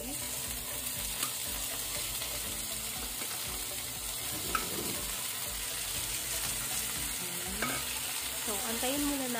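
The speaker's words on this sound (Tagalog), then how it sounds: "Tapos, ilagay natin ang sibuyas. Ayan, haluin natin konti. Tapos, ang last, kamatis." Onion and tomato sauté in a pan, a steady close sizzle with scattered clicks and scrapes as a utensil stirs them, a faint watery trickle at moments, and no talking.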